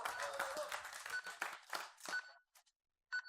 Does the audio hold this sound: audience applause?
yes